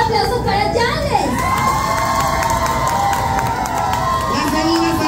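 A lively audience cheers, whoops and shouts for drag performer Janles at the Reina Drag 2022 competition show. The crowd noise is loud and continuous, with high excited voices rising and falling throughout.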